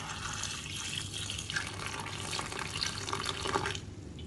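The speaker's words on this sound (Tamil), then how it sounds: "இதில் கொஞ்சம் சூடான தண்ணி ஊற்றிக்கலாம்." Warm water is poured from close by onto cauliflower pieces in a bowl, a steady gushing stream that runs continuously with no talking.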